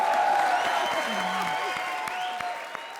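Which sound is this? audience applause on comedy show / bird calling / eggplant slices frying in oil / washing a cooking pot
audience applause on comedy show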